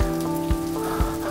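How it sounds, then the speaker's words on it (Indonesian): Rain falls steadily outside a house, a dense continuous patter on surfaces with occasional heavier drops, close and unbroken with no voices. "Bo sedang melihat hujan yang turun di luar rumah"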